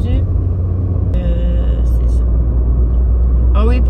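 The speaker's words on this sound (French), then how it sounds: "vous entendez plus de bruit hein, dans la voiture" Steady low road rumble fills the inside of a moving car, loud and continuous, with a brief voice and a few faint higher tones rising over the drone.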